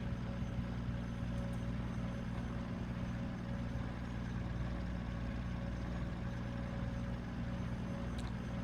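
A Cessna CH-1 helicopter engine running in MSFS 2024. It gives a steady, low, even drone with a constant tone and no change in pitch or loudness for the whole stretch, and no voices.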